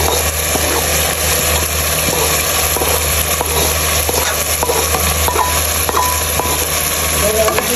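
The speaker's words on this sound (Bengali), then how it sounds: "এখন মুগ ডালটা দিয়ে তারপরে ভালো করে কষায় নেব" Mung dal and potatoes fry in a pan, giving a steady, close sizzle with stirring scrapes and a constant background hum throughout.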